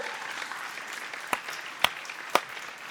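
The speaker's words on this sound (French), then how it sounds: "Je pense qu'on peut les applaudir." Faint, thin applause from an audience at a talk on digital change, a soft steady patter broken by three sharper single claps near the end.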